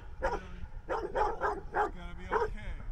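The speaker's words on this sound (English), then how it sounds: "He's happy. He's a happy bark there." A dog barks in a quick series of short, lively yips and woofs, close and fairly loud, with no one talking.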